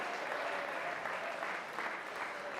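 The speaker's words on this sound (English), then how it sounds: "let's give him a nice round of applause for being so good" Guests at a wedding reception give Nick a round of applause, a sustained, even burst of clapping from a crowd filling the room with no talk over it.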